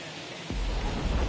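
Heavy rain pours down over a baseball stadium during an MLB game between the Chicago White Sox and Toronto Blue Jays, a steady broadband rush that swells in abruptly after a brief quiet moment and stays loud.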